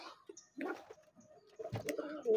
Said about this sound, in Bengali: এখানে আমার হলুদ বোম্বাই কবুতরটা সাদা দেশি কবুতরটা ডাকতেছে